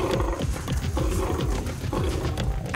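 Two male lions fight, giving rough, overlapping growls and roars in repeated bursts, loud and close, with scuffling noise between calls.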